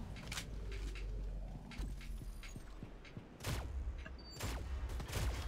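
The FEARAGINI legendary shotgun fires in the mobile shooter Shadowgun Legends during PvP play, with several booming shots spaced a second or so apart over a dense, continuous game soundscape.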